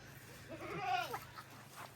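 A goat bleats once near the microphone, a wavering, drawn-out cry of about a second over a low background hum, with no speech.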